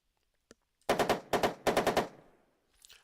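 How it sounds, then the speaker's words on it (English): Turret machine gun in the tank game Armoured Commander II fires three loud, rapid bursts of a few rounds each, with a short click beforehand and a fading tail afterward, no talking. "The first turreted machine gun at the front."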